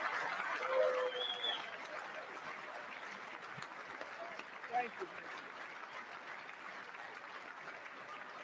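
Audience applause at the State of the Union fills the hall as a broad, steady wash that continues throughout, with a speaker's brief thanks over it.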